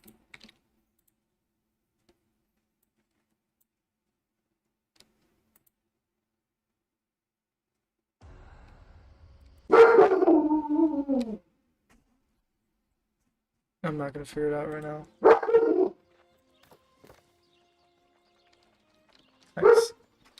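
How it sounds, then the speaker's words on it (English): A pet dog named Mac lets out a few scattered barks indoors, mixed in with someone talking and some keyboard typing, with long quiet gaps between them. "Mac is barking."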